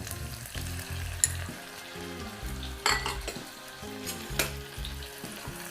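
Onion and ginger-garlic paste fry in a pan for rajma, giving a steady close sizzle with a few stirring scrapes and clinks of a utensil against the pot over soft background music.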